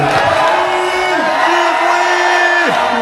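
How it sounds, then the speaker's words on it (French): Crowd at a 25th-anniversary concert event at the Puy de Dôme cheering and whooping loudly, with sustained yells and shouts over a dense roar of clapping and noise throughout. "J'aimerais qu'on les applaudisse bien fort, s'il vous plaît."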